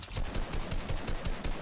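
Rapid automatic gunfire in the video game Fortnite, a close, loud burst of evenly spaced shots firing continuously at a steady rhythm.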